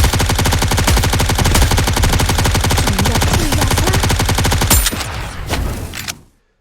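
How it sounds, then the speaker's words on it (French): Rapid, sustained machine gun fire in the video game NIKKE, loud and dense, hammering without pause for several seconds before breaking into a few scattered bursts and cutting to silence. "Planquez-vous là, ça mitraille."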